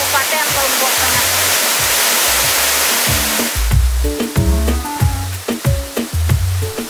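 A hidden forest waterfall in Central Lombok roars loudly with a steady rushing wash of water, which drops back after a few seconds to a softer flow beneath musical tones.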